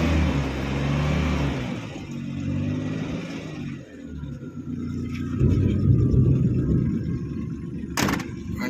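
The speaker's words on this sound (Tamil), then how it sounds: "இன்ஜின் நாய்ஸை பார்த்துக்கோங்க." A running 2008 Maruti Omni MPFI engine in good condition, heard as a close, low rumbling idle that falls and rises unevenly, with a brief sharp knock near the end.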